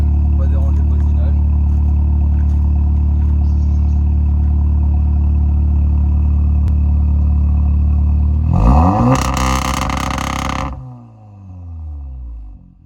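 A Volkswagen Golf 7R engine idles with a steady, loud rumble, then revs sharply once, holding high for about two seconds before dropping back and settling.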